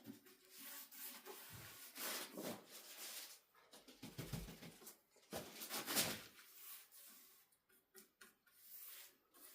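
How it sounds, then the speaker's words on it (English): Kitchen cabinets are hand-sanded with 80 grit sandpaper in quiet, uneven rubbing strokes that come in bursts with short pauses, close up and without talk. "Everything was sanded with 80 grit. Scuff up the surface and take the gloss off."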